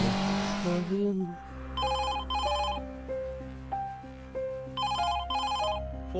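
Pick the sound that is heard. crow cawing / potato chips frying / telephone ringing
telephone ringing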